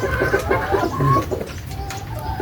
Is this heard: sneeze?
no